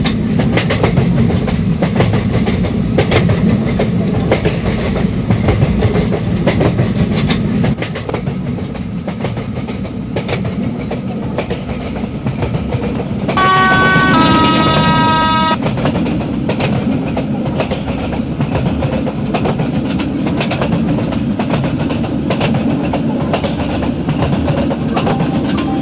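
Indian Vande Bharat Express high-speed train: a steady, loud rail rumble with clattering wheels throughout and a brief high tonal whine midway, with no voices.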